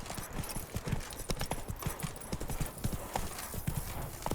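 Roach the horse gallops in The Witcher 3, with a quick, steady clip-clop of hooves close up over a dense, noisy game soundscape.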